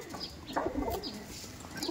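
Pigeons coo softly inside a loft, faint and scattered among low background noise.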